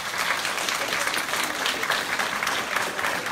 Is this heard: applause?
yes